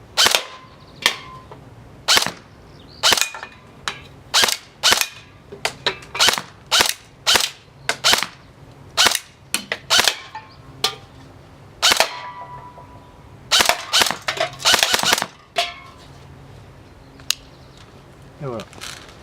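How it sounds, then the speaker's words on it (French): Sharp snapping shots from a GR15 airsoft rifle in semi-auto fire at cans one at a time in an irregular rhythm, loud and close, with faint clinks between some shots. "on va tirer sur les petites canettes qui sont vers là-bas"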